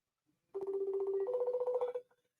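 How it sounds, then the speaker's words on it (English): A phone ringtone plays an unusual steady buzzing, pulsing electronic tone for about a second and a half, moderately loud and heard alone without speech. "This ringtone don't sound normal."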